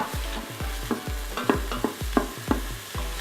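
Ground turkey and onion are stirred in a hot Instant Pot, a spoon scraping in quick rhythmic strokes about every third of a second over a soft, steady sizzle.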